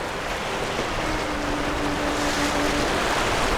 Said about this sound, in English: These rapids are fairly harmless